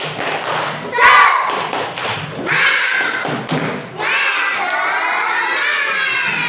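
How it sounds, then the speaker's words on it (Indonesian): A school class performs a rhythmic spirit clap, with loud group claps and thumps mixed with children's shouts and cheering, near and energetic. "Tepuk semangat!"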